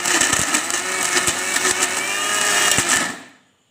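Mixer grinder grinding cooled, cooked shami kebab mixture: a steady high whirring motor drone with rattling pulses, running for about three seconds before cutting off and fading out.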